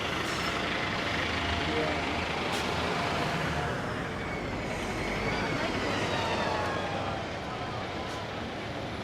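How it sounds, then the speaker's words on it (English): Academy express buses and other heavy traffic rumble along a Lower Manhattan street near the Brooklyn Bridge in extreme winds, a continuous loud roar of engines and wind. "We got our Academy buses going into Jersey."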